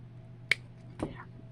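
A single sharp snip of wire cutters through beading wire or chain while assembling a dangle, one crisp click close by with a faint rustle just after.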